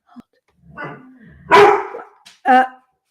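A few sharp dog barks, close by, spaced apart with short pauses between them.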